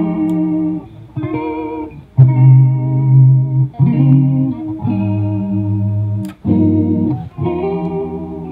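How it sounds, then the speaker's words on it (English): A lo-fi electric guitar played through a stereo chorus effect plugin with the mix near 50 percent: sustained, shimmering chords and notes ring out one after another, wide and wavering, with no voice. "you can put the mix knob closer to 50 to get a nice chorus effect"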